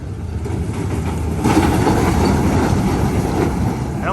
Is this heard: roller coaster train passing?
yes